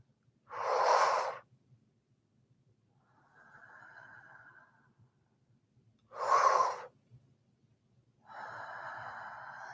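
Slow pranayama breathing, two soft airy exhales out through the mouth alternating with sharper nasal inhales, close and quiet with silence between breaths.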